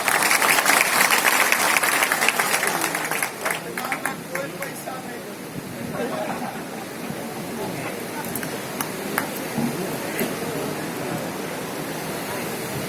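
Audience applause at a dairy cooperative gathering in Bihar, loud sustained clapping from a large crowd that fades slightly and continues steadily throughout.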